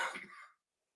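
An adult gives a single harsh cough that rolls into a brief throat clearing, close to a handheld microphone, lasting about half a second before falling silent.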